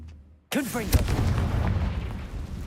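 A Confringo blasting spell explodes in a Harry Potter wizarding-world video game: a sudden loud burst after a moment of silence, followed by a sustained rumbling, crackling blast with swirling magical tones.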